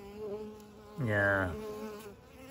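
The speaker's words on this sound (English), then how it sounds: "This guard bee is stinging her." Honeybee guard bees attack a stranger bee up close, a steady insect hum swelling into a loud, rising burst of angry buzzing for about half a second before settling back; a voice briefly speaks.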